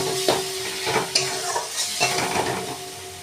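Spices with turmeric and a splash of water sautéing in a pan for a fish curry, a close bubbling sizzle with several stirring scrapes and spoon taps against the pan.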